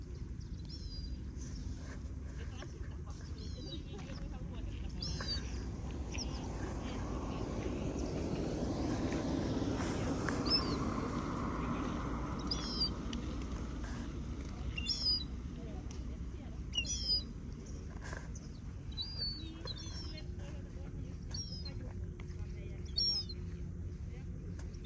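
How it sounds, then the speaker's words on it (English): House sparrows chirp outdoors, with faint, scattered short chirps recurring over a low rumble while people talk. "House sparrows."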